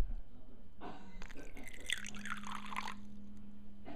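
Water trickles and pours into a small water dish in a tarantula tank, a brief gurgling fill with a faint rising tone, quiet and close.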